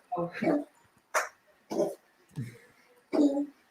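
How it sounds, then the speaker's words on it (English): A few short dog barks and yelps indoors, fairly close, mixed with a person speaking in between. "now the dog's barking"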